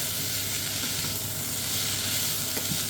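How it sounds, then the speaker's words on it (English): Potatoes and leeks sizzle and hiss steadily in a hot pan as they are stirred, a close, continuous frying crackle with faint scraping touches and no voices. "So I want to keep stirring these, mixing them up for about another minute or so"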